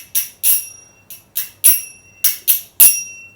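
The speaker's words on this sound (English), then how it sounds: "They're called kartals, or there's different types of names for these kind of big bells from India." Kartals, Indian metal hand bells, are struck together about nine times in an uneven rhythm, each bright, ringing clang close and loud with a short shimmering decay.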